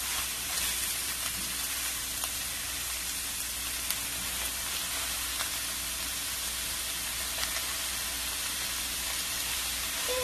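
Bok choy stir-frying in a pan for home-style stir-fry noodles gives a steady, moderately quiet sizzle with faint crackles throughout, with no talk.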